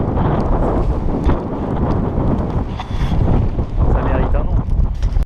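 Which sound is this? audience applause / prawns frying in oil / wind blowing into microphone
wind blowing into microphone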